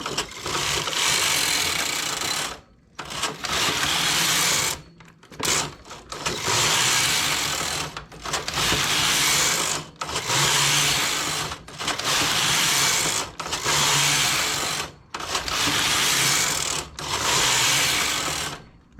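Machine knitting a hat, likely with doubled industrial yarn on a setting around 6.2: repeated loud rasping sweeps of the carriage, each about two seconds long, separated by short quiet gaps, close and without speech.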